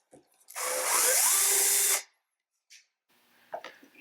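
A power drill bores a 1-inch hole for a newel post leg bolt, one loud whining burst of about a second and a half, then a brief quiet with small clicks and handling noises.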